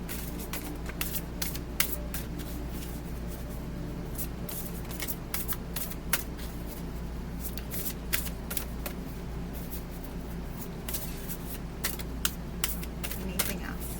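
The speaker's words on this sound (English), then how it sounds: "One more shuffle." A deck of oracle cards being shuffled by hand during a reading, soft riffling and flicking clicks scattered over a low steady room hum, close and fairly quiet, with no talking over it.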